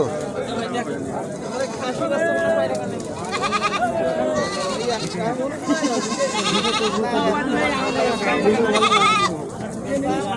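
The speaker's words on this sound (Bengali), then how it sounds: "বদরগঞ্জ হাটে প্রচুর পরিমাণ ছাগল আছে" Goats bleat again and again at the busy Badarganj goat market in Rangpur, Bangladesh, where local-breed goats are traded. The bleats are loud and overlapping, and a crowd talks and murmurs throughout.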